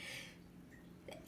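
A single sharp human sneeze bursting out loudly at the very end after near silence, preceded by a faint intake of breath.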